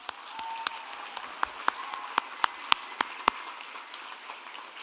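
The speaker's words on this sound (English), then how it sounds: "Let's salute their contribution with a round of applause." Sparse, scattered claps from a graduation ceremony audience, a handful of sharp individual hand claps over faint background murmur, with a brief tone early on.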